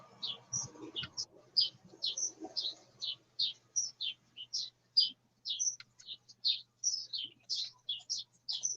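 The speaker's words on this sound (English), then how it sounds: "You've got some birds singing today, don't you?" Birds sing outdoors in a steady series of bright, high chirps and warbling phrases, fairly near and repeated every half second or so, with faint low murmuring underneath at the start.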